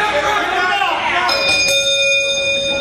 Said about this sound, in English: The bell rings, the time starts